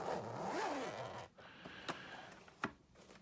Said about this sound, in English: you can actually do it through the side on this little zipper